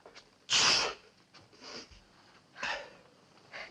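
A single loud, sharp sneeze bursts out near the start, followed by quieter breaths and sniffs in an indoor movie scene from the 1950s.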